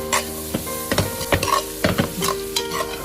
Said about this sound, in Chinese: 接着把刚才切好的蒜苗放入锅中，再快速的翻炒，将蒜苗炒至断生。